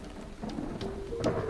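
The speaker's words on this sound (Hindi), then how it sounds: "गड़गड़ाहट होने लगी है, मुझे अब सीधा नीचे उतरना चाहिए।" Thunder during a storm on an exposed hilltop in South Dakota, a low continuous rumble with a rain-like hiss over it, moderately loud and steady across the short stretch.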